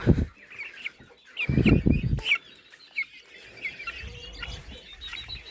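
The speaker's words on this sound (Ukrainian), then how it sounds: "Це курочка, шийка з мого господарства" Naked Neck hens cluck in short bursts around a farmyard, with a louder cluster of clucks near the start and softer scattered calls afterward.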